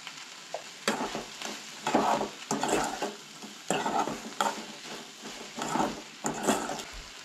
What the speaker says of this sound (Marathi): सो हे सगळें मिक्स करून घेवंक जाय